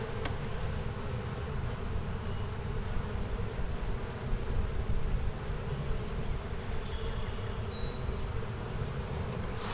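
Honey bees swarm around an opened spring hive box, giving a dense, continuous buzzing drone of many insects close by, steady and fairly quiet, with no talking.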